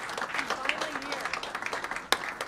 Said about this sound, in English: So let's clap for her.